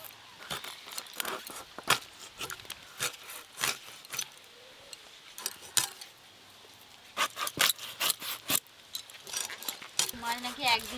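Live magur and singi fish being rubbed and scrubbed by hand while washed, giving irregular sharp scraping and slapping bursts that come in quick clusters with brief pauses, close by.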